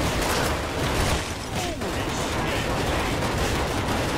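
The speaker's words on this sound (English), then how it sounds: "What are you guys shooting?" Gunfire in the game NecroVisioN: Lost Company, a dense, loud stretch of rapid shots and machine-gun bursts with mechanical clatter that runs almost unbroken to the end.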